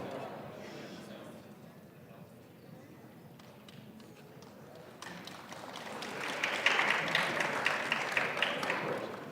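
Audience applause at a high school junior class academic awards ceremony, a steady patter of many hands that swells louder toward the end, with a voice speaking over the start.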